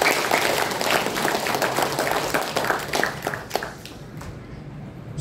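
Audience applause fills a doctoral graduation ceremony for an Islamic education dissertation, a dense steady patter of many hands clapping that thins out and fades toward the end.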